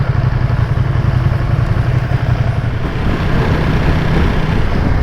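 A Ducati Streetfighter V2 motorcycle engine idling and running at low revs, around 1,500 to 2,000 rpm, steady and loud close by, with a constant low rumbling throb.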